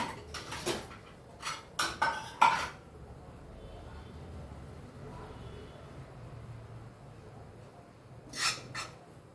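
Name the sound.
dishes and utensils clinking while transferring spinach chutney into a bowl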